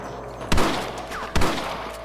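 Sniper rifles fire in the Red Dead Redemption video game: two loud, close gunshots about a second apart, each with a short ringing tail.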